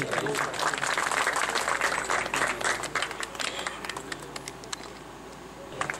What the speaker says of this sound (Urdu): بچے کی حوصلہ افزائی کے لیے تالیاں ضرور بجائیں